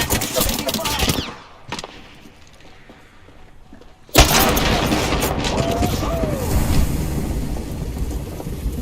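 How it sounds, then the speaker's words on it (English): Gunfire in the battle royale shooter Apex Legends, a burst of shots at the start, a quiet stretch, then a sudden loud onset of sustained firing and explosions from about four seconds on. "Taking fire!"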